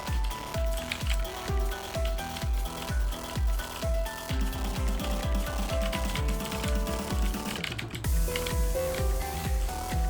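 Computer keyboard keys clatter in a fast, rhythmic stream of close clicks during the rhythm game Deemo Reborn, with the game's piano-like music playing underneath throughout.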